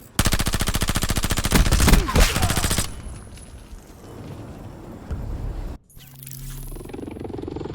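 Rapid automatic gunfire in a Call of Duty Black Ops battle royale match, loud and close in dense bursts, then fading into quieter game ambience with distant shots and a brief dropout.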